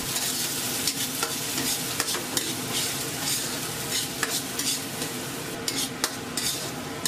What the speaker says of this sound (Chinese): 下洋葱末炒出香味